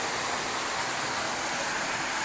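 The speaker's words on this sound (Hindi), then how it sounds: "जो पानी गिर रहा है ऊपर से, ये ज़बरदस्त है।" Siyadevi waterfall near the temple in Balod, Chhattisgarh, pours down from above in a dense, steady rushing hiss that stays loud and unbroken, with no speech over it.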